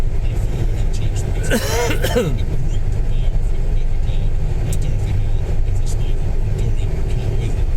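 A car pulls away and recedes outside the Golf Hotel car park, its engine drone fading steadily under constant low rumble, with a brief cough-like burst and voices nearby.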